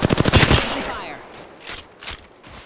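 Rapid automatic gunfire rattles in a fast burst in Apex Legends, followed by a few scattered single shots and impacts, loud and close, without talk.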